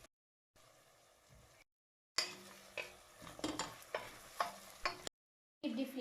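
Whole spices for chicken biryani sizzle and crackle in hot oil, with a few bursts of frying and clinking against a pan coming through between short silent gaps.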